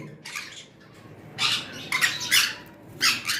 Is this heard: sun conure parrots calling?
yes